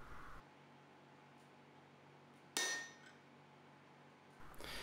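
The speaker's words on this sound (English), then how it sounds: "hammer the punch into the hot steel from one side and then from the other" Hammer drives a hardened steel punch into bright-yellow-hot steel at a forge: one sharp metallic clang with a short ringing decay over a low steady background hiss.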